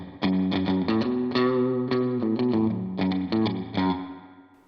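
An electric guitar played through a Line 6 POD Express with spring reverb set to drip gives a run of plucked notes and chords, each attack trailing a wet, splashy reverb tail, in a steady phrase with no voices.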